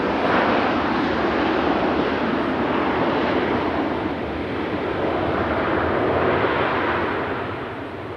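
An airliner passes at Raleigh-Durham International Airport, its steady, loud jet roar filling the whole stretch and easing off slightly toward the end, with no voices over it.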